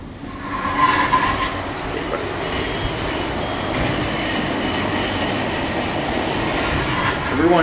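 Train noise fills the clip, with a steady rumble and rolling clatter plus brief squeals near the start and end, as a train arrives at the Barcelona El Prat Airport station in Spain.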